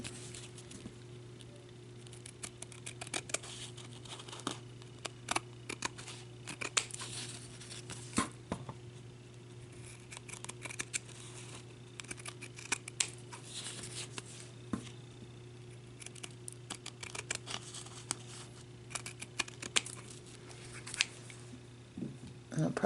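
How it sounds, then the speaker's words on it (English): Scissors snipping through paper card stock for a handmade gift card holder, a long run of close, crisp irregular cuts and trims, with a voice talking over parts of it. "Just lay your blades right against the edge here and cut it."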